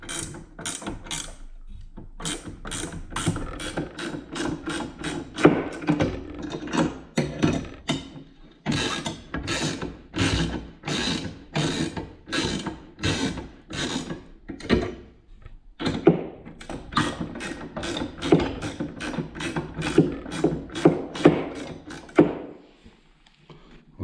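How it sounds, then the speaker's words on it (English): A wrench ratchets on threaded rods that draw a bearing splitter off a John Deere B fan shaft. The clicking comes in repeated close bursts, with occasional thunks and short pauses between strokes. "Just a couple of threaded rods, bearing splitter on this end. See what happens while I wrench on the other end."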